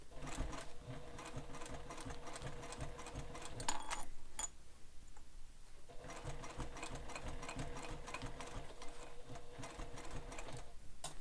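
A sewing machine stitches a strap on a sling pack, a fast steady mechanical chatter running for several seconds, pausing briefly, then resuming at the same pace, close and without talk.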